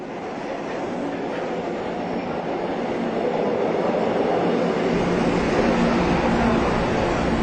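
A subway train runs loud and close with a steady roar and a faint clatter of wheels. The rumble deepens and builds toward the end, and no one speaks.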